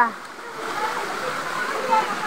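Steady rushing of Busay Falls in Pagatpatan, Bato, Camarines Sur, a broad continuous water roar with splashing close by, with voices in the background.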